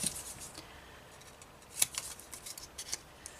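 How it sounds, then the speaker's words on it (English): Scissors snipping through pieces of a paper bag, a handful of sharp, close cuts scattered over a few seconds against a quiet background. "Okay, so you can cut that off and cut this piece off."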